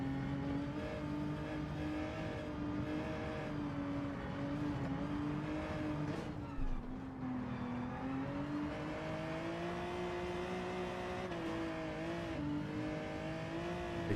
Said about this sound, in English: it just seems to be bouncing the rev limiter